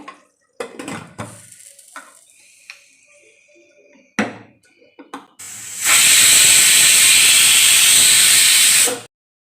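A pressure cooker cooking egg curry releases one loud, steady hissing whistle lasting about three seconds, after a stretch of quieter kitchen clatter and handling noises.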